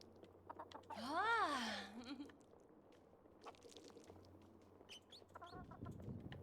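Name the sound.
chicken clucking in video game Fae Farm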